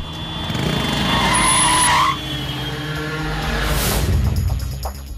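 A car driving fast with its tires skidding and squealing, a sustained loud screech riding over engine roar that eases off and then swells again.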